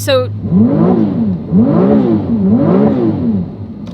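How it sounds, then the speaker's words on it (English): A Ferrari 296 GTB V6 heard from inside the cabin, rising and falling through three repeated rev sweeps with a whirring tone, loud and close, a voice briefly speaking at the start. "I've heard reviews that the car sounds better inside the car than what it does outside the car"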